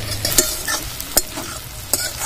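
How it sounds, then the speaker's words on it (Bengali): Onions sizzle steadily in a hot pan while being half-fried, with three sharp scraping stirs breaking through the continuous close frying noise. "পেঁয়াজটা আধা ভাজা করে নিতে হবে, বেশি কড়া ভাজলে হবে না।"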